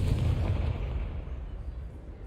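A Confringo fire spell from Hogwarts Legacy bursts with a loud, deep explosive boom, then rumbles and slowly fades over a couple of seconds with no voices.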